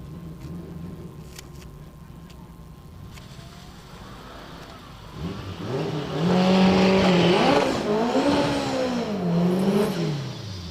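A CTSV and an MR2 race side by side at a street racing event. Engines rev and accelerate hard, swelling louder with rising and falling pitch sweeps as the cars pull away, close and prominent.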